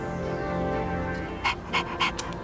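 Koromaru, the dog from the video game Persona 3 Reload, panting in quick breathy bursts over steady game background music, close and fairly soft.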